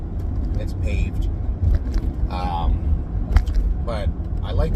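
A 2009 Chevy Silverado LT with Rancho RS9000 adjustable shocks drives over a bumpy paved road, heard from inside the cab as a steady low rumble with bumps and rattles while someone talks over it.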